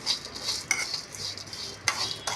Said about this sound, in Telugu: ఈ కరివేపాకు కూడా ఏగేదాకా వేయించుకోవాలి